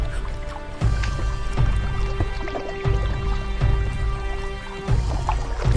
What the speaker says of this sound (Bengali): সে লগি দিয়ে নৌকায় ধাক্কা দেয় এবং নৌকাটা ধীর গতিতে মাঝ নদীর দিকে এগোতে থাকে